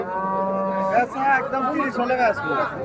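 Cross-breed dairy cows at the Ranigonj cattle market in Ghoraghat, Dinajpur, giving a long drawn-out moo followed by several shorter rising and falling calls close by, with crowd chatter faintly underneath.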